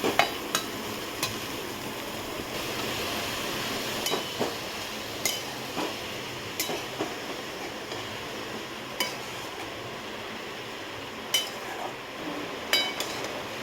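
Chopped fenugreek leaves stir-fried in a pan for a Malvani-style methi bhaji, a soft steady sizzle broken by occasional clinks and taps of a spoon against the pan, with no talking.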